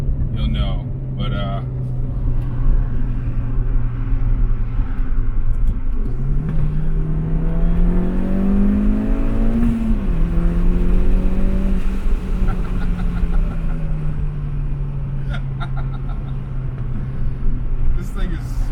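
A turbocharged R56 Mini Cooper S fitted with a CAE shifter pulls hard through the gears, its engine note rising and dropping in a loud, close rumble as it accelerates, with no talk over it.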